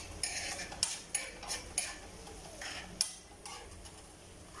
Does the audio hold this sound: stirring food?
yes